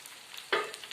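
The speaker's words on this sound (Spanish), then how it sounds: "vamos fritando la otra hamburguesa" Chickpea burger patty frying in plenty of oil, a low steady sizzle that swells into a louder crackling burst halfway through and then settles back to a gentle hiss.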